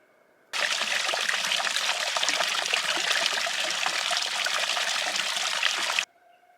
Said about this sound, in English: I'm filling up all my water and everything.